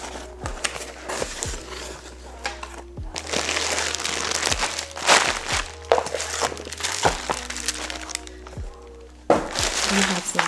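A wig package being unboxed, with close crinkling and rustling of plastic wrapping, scattered thunks and handling knocks over about ten seconds against a low steady hum.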